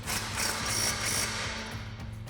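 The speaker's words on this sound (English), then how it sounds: "we'll take our impact and 21mm socket and 21mm wrench and tighten this down" Impact wrench with a 21mm socket tightening a lower shock mount bolt on a RAM 1500 during a suspension lift install, short bursts of rattling hammering clatter close by in a garage.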